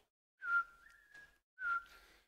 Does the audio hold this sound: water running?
no